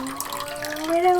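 Sugar and water are poured into a pan for a macaron syrup, a short trickling splash of liquid close by, faintly ringing as it fills.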